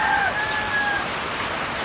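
Steady rain falls as a loud, even hiss while someone works outdoors building a breeding pen from recycled materials, with a brief whistle-like tone near the start and no talking.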